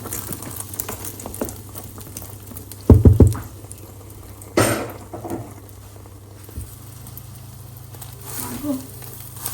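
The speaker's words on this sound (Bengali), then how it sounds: "ডিমটা ভাজি করে নিই" An egg frying in a pan gives a steady spattering crackle, broken by a couple of louder sputtering bursts, with a faint voice now and then.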